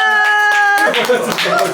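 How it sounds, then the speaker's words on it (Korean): A few people clap briefly during a family year-end outing, close and loud, with a tonal sound at the start and voices talking over the clapping. "박수"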